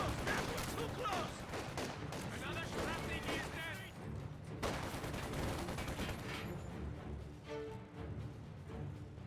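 MG34 machine gun and other small-arms fire crackle through a Company of Heroes 2 battle, bursts layered with explosions and game effects while a commentator talks over the mix.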